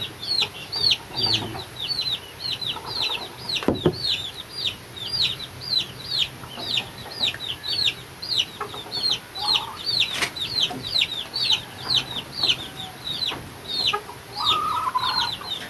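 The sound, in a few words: chicks clucking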